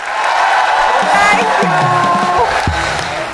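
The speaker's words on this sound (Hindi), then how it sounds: "विवाहित जोड़े के लिए एक बार जबरदस्त और जोरदार तालियां होनी चाहिए।" Loud audience applause and cheering for a married couple at a televised show, with whoops and shouted voices rising over the clapping crowd throughout.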